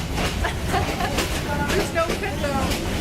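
Steady rumble and rhythmic clicking of a train carriage in motion in Yangon, Myanmar, heard from inside while riding, with people talking over the rolling noise.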